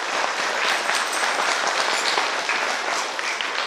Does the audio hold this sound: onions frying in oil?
no